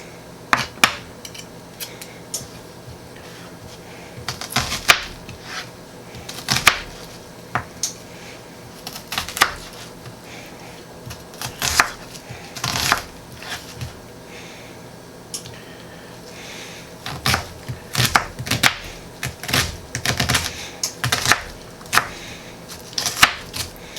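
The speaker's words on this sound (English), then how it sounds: "we'll just chop this up as well" A knife chops on a cutting board, preparing ingredients for stuffed pork cubed steak: irregular bursts of crisp, close taps and knocks, some quick runs of strokes, with quiet pauses between.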